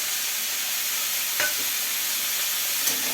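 Pumpkin fries in a pan while being stirred, giving a steady, bright sizzling hiss with a couple of faint scraping touches from the utensil; no voices.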